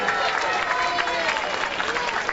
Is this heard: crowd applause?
yes